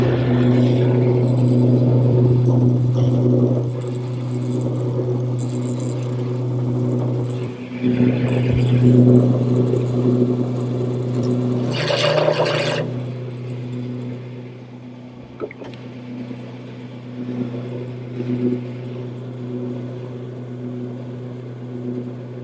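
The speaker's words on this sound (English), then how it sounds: "use a parting tool to bring them down to the diameter that I want" A parting tool cuts into a wooden turning on a lathe in a woodworking shop, a steady motor hum and broadband scraping running throughout, with a brief harsher burst of cutting midway.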